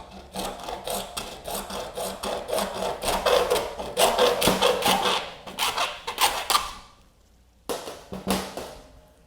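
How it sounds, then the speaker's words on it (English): A hacksaw cuts through a turkey wing bone behind the ball joint of the humerus in rapid rasping back-and-forth strokes, close and fairly loud. It pauses briefly, then resumes for a few final strokes. "we cut it off right behind the ball joint of the humerus bone. We use our hacksaw for that"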